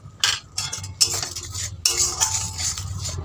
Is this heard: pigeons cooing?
no